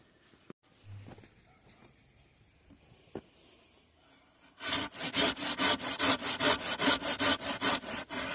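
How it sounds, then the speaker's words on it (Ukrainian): After a few faint taps, a garden hand saw with sharpened but unset teeth rasps steadily through wood in loud, rhythmic back-and-forth strokes. "давайте спробуємо попиляти гострими просто зубами, але без розведення"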